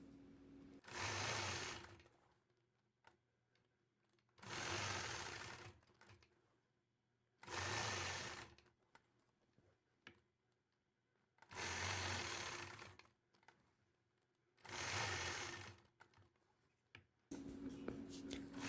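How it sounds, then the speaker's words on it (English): A sewing machine stitches a scalloped triangle design along a quilt border in five bursts of steady whirring, each lasting about two seconds, separated by short pauses, with the motor starting up again at the end. "I'll continue stitching, working all the way across my quilt top side of my border from left to right"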